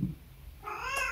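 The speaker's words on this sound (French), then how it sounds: "Ah, c'est mon chat." A house cat gives a single short meow partway through, fairly close and clear against a quiet room, with a soft low thump at the end.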